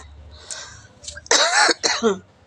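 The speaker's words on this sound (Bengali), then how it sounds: "এত কাশি হয়েছে না বন্ধুরা কি বলবো" A person coughs hard in a short burst of several harsh, close coughs, with a brief throat-clearing sound before them, alone with no talk.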